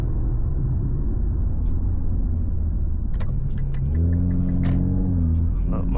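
Low, heavy rumble from a straight-piped Infiniti Q50S under way, droning steadily close up, then rising in pitch as the engine revs and accelerates near the end, with faint ticking and rattles over the top.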